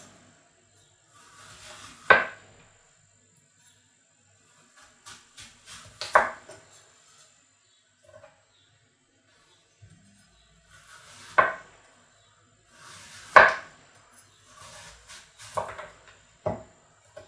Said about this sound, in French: Maintenant, on va couper des rondelles de pommes.